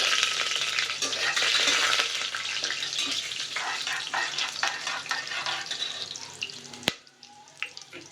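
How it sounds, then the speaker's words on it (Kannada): Bay leaf, cinnamon, cloves, cardamom and cumin fry in hot oil for a festival donne biryani, a steady close sizzle that softens toward the end after one sharp click. "1-2 ಪಲಾವ್ ಎಲೆ, ಚಕ್ಕೆ, ಲವಂಗ ಮತ್ತು 1 ಏಲಕ್ಕಿ, ಹಾಗೆ ಸ್ವಲ್ಪ ಜೀರಿಗೆ, ಇದಿಷ್ಟು ಹಾಕಿ ಸ್ವಲ್ಪ ಫ್ರೈ ಮಾಡ್ಕೋಬೇಕು."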